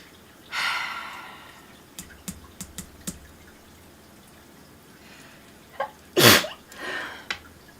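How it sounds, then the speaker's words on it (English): A single loud, explosive sneeze near the end, preceded by quick sharp sniffs and breaths, with a breathy exhale after. "I'm going to sneeze."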